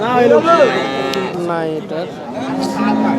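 Cows moo loudly and close at a busy cattle market where cows are sold with their calves, several drawn-out lowing calls overlapping one another, with someone talking nearby.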